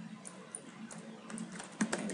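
Soft clicking of a computer keyboard as a word is typed, a quick run of light keystrokes at close range in a quiet room.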